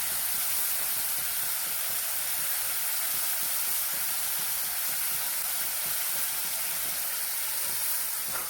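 Water poured into a hot pan while making an Assamese omelet curry, giving a loud, dense, continuous sizzle and steamy hiss that stays steady throughout, close up.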